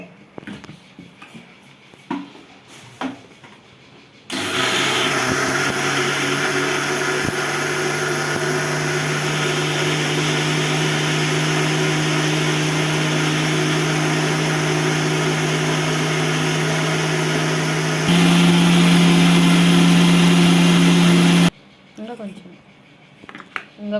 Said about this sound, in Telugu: దోశకి ఎలా వేసుకుంటామో అలా వేసుకొని మిక్సీ పట్టేసుకోవడం